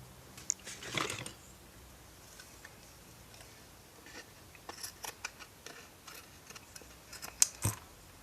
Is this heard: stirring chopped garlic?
no